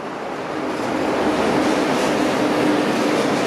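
A train rumbles past nearby in Toronto's Mimico neighbourhood, a continuous loud roar of wheels on rails that holds steady for the whole stretch.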